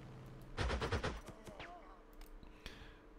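Rapid bursts of aircraft strafing fire in the Panzer Corps 2 war game, a tight cluster of loud gunfire pops followed by a few scattered fainter shots and a whooshing sweep.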